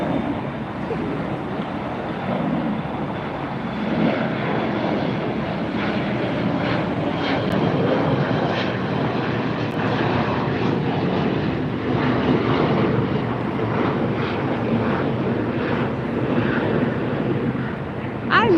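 A jumbo jet at LAX airport at night gives a sustained, heavy engine roar that stays loud and steady, with some wind buffeting on the microphone.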